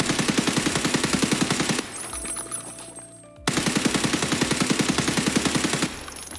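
Silenced SA rifle fired in the video game Escape From Tarkov: two long, rapid bursts of suppressed automatic shots with a short pause between them, loud and close.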